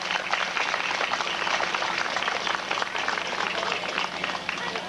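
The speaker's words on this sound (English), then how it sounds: "I think we should give the Lodge a round of applause for supplying us this year with signers for our deaf community." An audience at the 1992 Itasca County Fair in Grand Rapids, Minnesota applauds the Eagles Club lodge, a steady wash of many hands clapping throughout.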